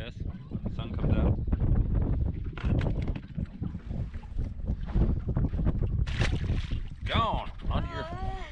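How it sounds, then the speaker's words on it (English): Wind blowing hard outdoors at Paddock Reservoir in Idaho during bass fishing from a boat, a loud continuous rush buffeting the microphone, with voices talking over it. "The wind's still blowing."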